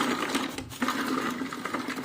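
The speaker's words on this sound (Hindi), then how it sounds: "ये हम पहले हैंड ब्लेंडर में ये प्याज जो है इसे भी चॉप करना है।" An electric hand blender whirs steadily while chopping onion in a home kitchen, a close, continuous buzzing motor with slight rattling and no talking.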